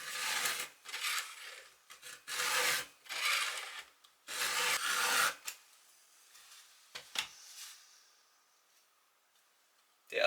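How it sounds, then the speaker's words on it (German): Rhythmic rasping strokes of a file on the chain teeth of a Stihl MS 261 chainsaw, several long scrapes in a row, then a few short taps and quiet, close by. "Ich arbeite so, dass ich zuerst alle Zähne in die Richtung schärfe"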